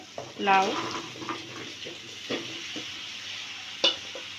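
Chopped bottle gourd tipped into spice paste frying in oil for a rohu fish curry, a sharp burst of sizzle as it lands, then quieter scattered stirring scrapes and a clink near the end.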